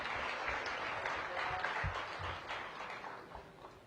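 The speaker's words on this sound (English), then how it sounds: "So give us a round of applause to our honorable Ward 7 Councilman Vincent Gray." Applause from an outdoor crowd at a hospital topping-out ceremony, heard as a steady wash of clapping at moderate distance that fades slightly toward the end.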